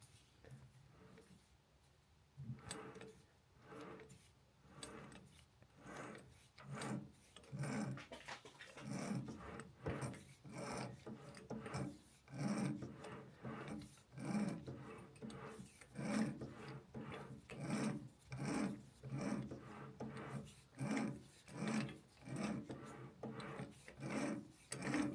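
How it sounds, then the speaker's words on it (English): A tap cuts threads into a pool cue butt joint on a lathe, giving rhythmic rasping, scraping strokes that repeat steadily and grow louder as the cut deepens, faint and close. "You can hear that it's cutting and taking a deeper cut than the last tap."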